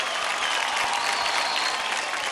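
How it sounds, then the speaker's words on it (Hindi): Studio audience applause for a dancer named Swarali on the Dance India Dance Season 4 stage, a steady, dense wash of clapping that holds at full strength throughout without any break. "जोरदार ताली हो जाए स्वराली के लिए"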